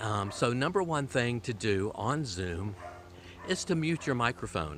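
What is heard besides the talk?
dog barking in the background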